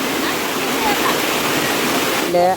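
The Akole waterfall in Palghar district roars loudly and continuously up close, and a voice briefly rises over it near the end.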